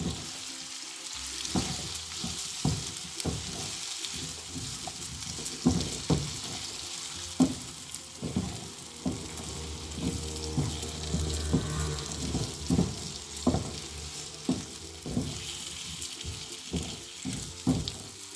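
Cherry tomatoes sizzle and fry in a hot pan, with steady crackling spatter and repeated stirring knocks and scrapes at a close, moderately loud level.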